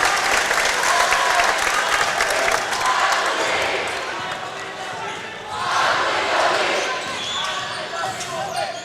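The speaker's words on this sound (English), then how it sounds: "Chris gets a standing ovation as he heads out" A standing ovation at a high school boys basketball sectional final: a sustained roar of crowd applause fills the gym, easing slightly midway then surging again, with a commentator talking over it.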